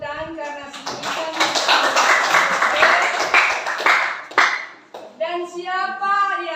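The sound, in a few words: applause from children in class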